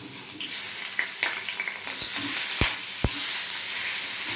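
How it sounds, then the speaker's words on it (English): Stuffed bitter gourd frying slowly with masala in a pan makes a steady close sizzle, broken by a few soft clicks and light stirring knocks. "and then the leftover masala of stuffing, and then fry it. Fry it very slowly."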